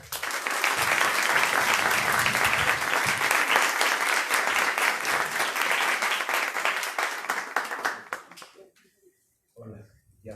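An audience applauds an invited author at a photography conference: dense, loud clapping that holds steady for about eight seconds, then fades out, with a short burst of voice near the end.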